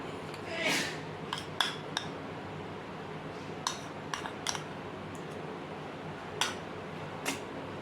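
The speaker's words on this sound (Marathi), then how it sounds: "आणि आपण कंटिन्यू असं हे पीठ आपलं छान असं भाजून घेऊया असं कंटिन्यू परतत राहायचं" Wheat flour roasted in ghee in a pan over a low gas flame for modak, stirred with a spoon that gives sparse metallic scrapes and clinks over a faint hiss, close and quiet.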